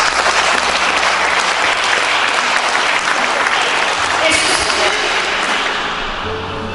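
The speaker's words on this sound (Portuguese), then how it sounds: "Vamos aplaudir nosso Deus." A church congregation applauds in sustained, dense clapping that fills the hall, holding loud for several seconds before easing slightly toward the end, with voices mixed in among the crowd.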